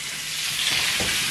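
Garlic cloves frying in a hot skillet, a dense, steady sizzle with a brief louder crackle near the end, close and with no voices.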